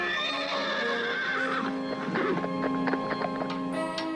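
A cartoon horse in a Smurfs episode gives a loud, wavering neigh, followed by a series of sharp clip-clop hoofbeats rhythmically striking close by.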